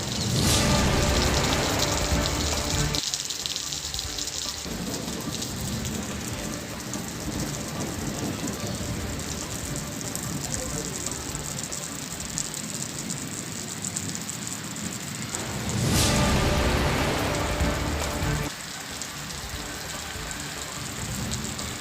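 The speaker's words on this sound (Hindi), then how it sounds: "दोपहर की तेज गर्मी के बाद शाम को बूंदाबांदी होने से मौसम में ठंडक" Light evening drizzle after a hot afternoon makes a steady, dense hiss of rain lasting over twenty seconds, rising briefly in a couple of louder surges, with no voices.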